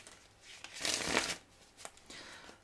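Tarot cards being shuffled by hand during a reading, a soft papery riffle that swells to a dense burst in the middle and then trails off into a few light flicks, close and fairly quiet with no talking.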